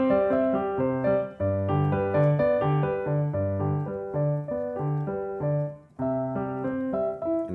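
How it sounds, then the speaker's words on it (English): Piano played without the sustain pedal in a restaurant setting, a steady sequence of distinct, close chords and melody notes that stop cleanly rather than ringing together. "So if I play without sustain pedal,"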